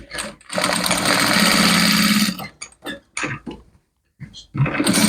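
A sewing machine stitches a pet dress in a long, steady, rapid whirring run, then stops and restarts in short bursts with brief pauses, close and loud.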